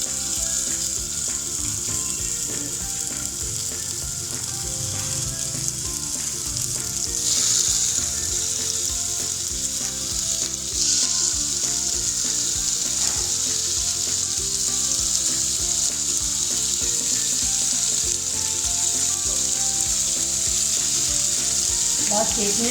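Seekh kebab pieces fry in ghee on a griddle over a low-medium flame, giving a continuous loud sizzle with occasional stirring scrapes.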